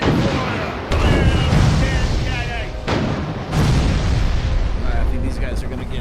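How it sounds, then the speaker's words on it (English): Ship cannons in the naval combat game Furious Seas fire as heavy booms over a constant roar of battle, with sharp onsets near the start and midway, while voices talk over the action. "Left guns, ready to fire."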